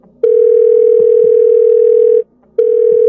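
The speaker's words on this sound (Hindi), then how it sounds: "फिर टिया को कॉल किया।" A steady telephone ringback tone in a dramatized audio story, one long unbroken beep followed by a short pause and the next beep starting, loud and clear with no voices over it.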